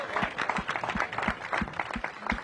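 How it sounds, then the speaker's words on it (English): A live crowd at a Washington, DC mayoral sports announcement claps steadily in a rapid, even patter, moderately close and not very loud, with no talk over it. "we should all give her like a huge round of applause"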